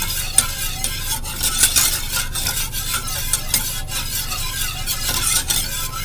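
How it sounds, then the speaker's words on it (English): Homemade vanilla pudding being stirred in a pot over heat, giving a steady scraping and swishing with regular utensil strokes against the pan, close and moderately loud with no talking. "As you stir, and the heat starts to increase in your liquid, you can feel it get thicker little by little."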